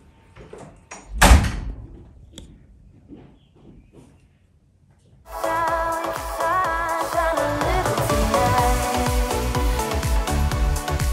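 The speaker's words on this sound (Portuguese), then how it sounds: "A Bianquinha tá batendo na porta." A sharp door knock or bang sounds once near the start, followed by a few faint taps and quiet movement, before loud music takes over.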